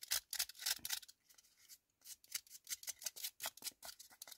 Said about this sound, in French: j'ai repris mon cutter tout simplement pour retirer